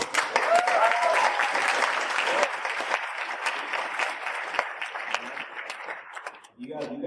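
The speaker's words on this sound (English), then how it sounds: "You guys can't clap after everything else." A high school audience breaks into loud, dense applause that carries steadily for several seconds, then thins and fades near the end as a voice begins speaking.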